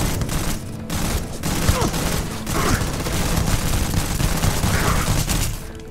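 Gunfire from a weapon in the space game Starfield rattles through a busy, dense mix of game sound, with a few short bursts standing out and a voice talking briefly over it.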